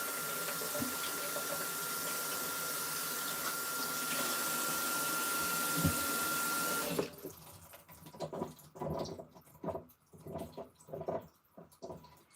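Chickpeas being rinsed under a running kitchen tap to wash their skins off, a steady loud gush of water that stops partway, followed by wet sloshing and handling in the sink.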